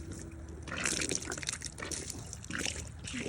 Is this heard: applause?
no